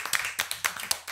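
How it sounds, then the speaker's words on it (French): A French television studio audience applauds a teacher with a brief scatter of sharp hand claps, about half a dozen distinct close slaps in quick succession. "Alors on va aussi faire un tonnerre d'applaudissements pour notre professeur, Monsieur Maxime."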